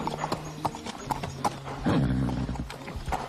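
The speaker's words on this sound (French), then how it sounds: "Ce cheval fait notre fierté." A horse's hooves clip-clop at a walk, close and moderately loud, with a brief snort or whinny partway through amid outdoor farm ambience.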